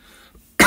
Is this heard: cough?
yes